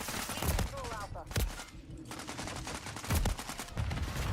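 Gunfire in a multiplayer objective-capture video game, a few sharp shot bursts and rattling volleys spaced across the moment, fairly quiet overall beneath game ambience.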